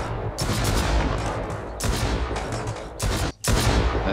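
Heavy gunfire during a raid on a huge bandit camp in Mist Survival, sustained loud bursts broken by several short pauses, with a sharp gap shortly before the end.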